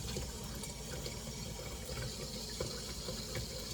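Tap water running steadily as something is washed in a new house, a constant rushing stream without pauses.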